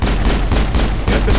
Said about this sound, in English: Somebody got like some sniper? Is that a sniper?